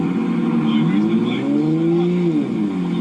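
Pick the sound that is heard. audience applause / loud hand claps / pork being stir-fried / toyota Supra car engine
toyota Supra car engine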